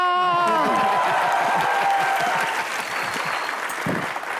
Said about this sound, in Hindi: तो हो जाए मेरे लिए जोरदार तालियां